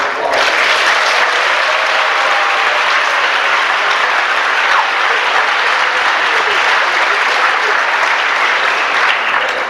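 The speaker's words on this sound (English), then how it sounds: "give all of our students and award recipients one more round of applause" An audience at a high school honors night for 9th–11th graders applauds students and award recipients, a loud, dense, unbroken wash of clapping that holds steady throughout.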